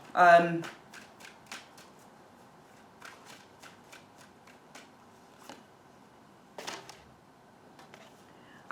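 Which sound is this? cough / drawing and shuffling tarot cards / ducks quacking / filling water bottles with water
drawing and shuffling tarot cards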